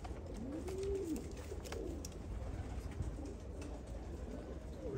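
Malfazar ejder pigeons coo in a steady series of soft, low, rounded calls, several birds overlapping at close range over a constant background hum, with no talking.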